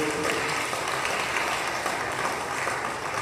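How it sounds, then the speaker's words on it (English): A crowd claps at a city council inauguration ceremony for newly elected officials, a loud, continuous wash of applause that stays steady from start to finish with no voices standing out. "let's give a round of applause for our new elected officials and the people of the city of"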